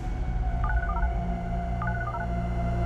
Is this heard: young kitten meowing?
no